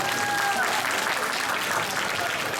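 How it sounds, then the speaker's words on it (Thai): A crowd at a press conference for a concert in Hat Yai bursts into continuous, dense applause, with a brief high whistle near the start and voices mixed into the clapping. "ขอเสียงปรบมือเลยครับ"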